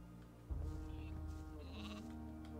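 A sheep bleats in the video game Gothic 2, a drawn-out, wavering call, fairly close, over a steady low background hum.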